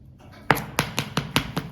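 Utensil tapping the side of a bowl while mixing fermented dhokla batter, five sharp clicks in quick uneven rhythm, close and fairly loud with no talk.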